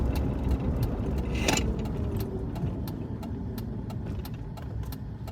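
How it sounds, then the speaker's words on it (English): A car on a rural road passes near a state park, a steady mid-level engine and tire rumble with a brief louder swell around the middle, heard alone without talk. "Wait for this car to go by."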